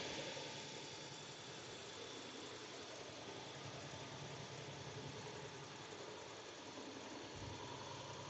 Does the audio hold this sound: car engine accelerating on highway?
yes